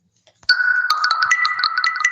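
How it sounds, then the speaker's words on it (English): A mobile phone ringtone starts abruptly and plays a repeating bright electronic melody, loud and close, with no talking. "Forgotten to turn my flipping phone off again."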